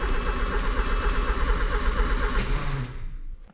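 A 1984 Porsche 944, fuel pump freshly wired, cranks and tries to start, a loud steady engine rumble for about three seconds before it cuts out and dies away.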